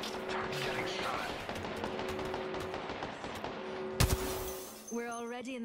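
Rapid bursts of video game gunfire crackle at mid distance, with one sharp, louder shot near the end, followed by a voice talking.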